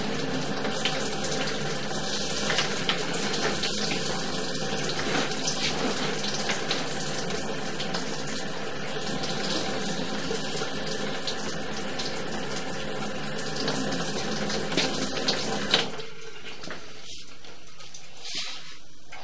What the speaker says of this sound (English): So here's the water from the kitchen or from the basement sink down here.